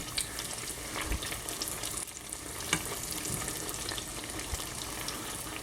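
Eggplant slices fry in a pan with a steady close crackling sizzle and occasional scrapes and clinks as they are moved, with no talking.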